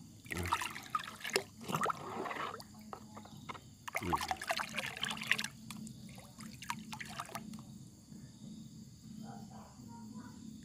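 Organic liquid fertilizer is stirred into about 15 liters of water, giving quiet sloshing and trickling splashes in uneven bursts over the first half, then fading to soft dribbles against a faint outdoor background with insects.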